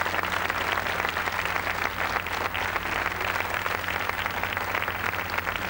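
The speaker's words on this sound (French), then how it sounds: "Applaudissez-le, je vous dirai pourquoi." Steady, sustained applause from a television studio audience at a 1987 New Year's Day carnival broadcast, dense and even in volume throughout with no voices over it.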